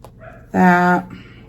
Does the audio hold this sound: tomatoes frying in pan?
no